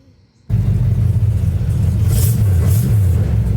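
A car engine running through a newly fitted 2-inch exhaust pipe and corrected manifolds settles into a steady, low, mellow rumble after a quiet start, close and constant.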